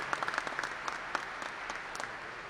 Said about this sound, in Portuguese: eu queria pedir uma salva de palmas aqui para a porção feminina da nossa profissão